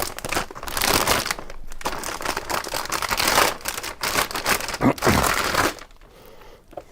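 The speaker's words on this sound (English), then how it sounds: "Alright, crinkling noises." Plastic packaging crinkles and crackles loudly and close by while an MSI X570-A Pro motherboard is unboxed, in dense, busy rustling bursts that fade near the end.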